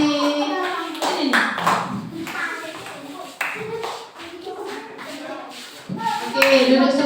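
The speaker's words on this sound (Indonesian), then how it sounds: "Kasih tepuk tangan dulu untuk kelompok Alif." Schoolchildren in a third-grade classroom clap for a group of classmates, scattered hand claps mixed with children's chatter and a teacher's voice close by.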